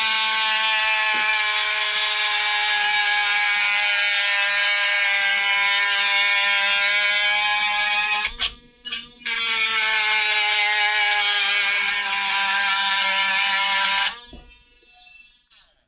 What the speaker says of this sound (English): I've just been buffing them